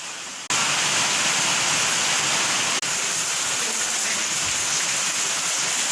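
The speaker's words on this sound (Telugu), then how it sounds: "వర్షం అయితే కొడుతూ ఉంది." Heavy rain pours down in a dense, continuous roar that starts abruptly and stays loud throughout, with no voices.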